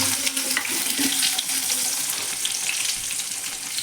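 Steady, crackling sizzle of small onions, green chili and spices frying in hot oil, dense and close, with no talking.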